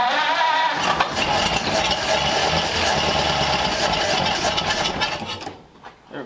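A 1934 Ford Delivery engine cranks slowly with the choke off, then roars to life loud and close for several seconds before dropping off abruptly, with no talk over it.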